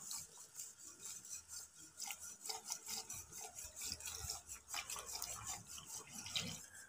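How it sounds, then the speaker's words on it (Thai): A spoon stirs flour batter through boiling sugar syrup in a pot for Thai tao suan dessert. It makes faint, irregular rasping scrapes and soft wet sloshes in quick repeated strokes, with no talking. "เราก็จะคนจนแป้งสุกใสเลยนะครับ"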